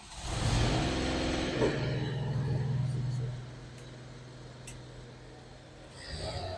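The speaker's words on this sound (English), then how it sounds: "So you'd turn on your air compressor." Air compressor running on a fuel and lube truck, a steady mid-pitched engine-like drone that is loud at first, eases to a lower, quieter hum after a few seconds, then swells again at the end.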